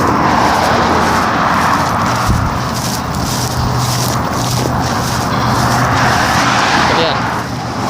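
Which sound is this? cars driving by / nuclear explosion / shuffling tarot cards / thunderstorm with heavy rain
cars driving by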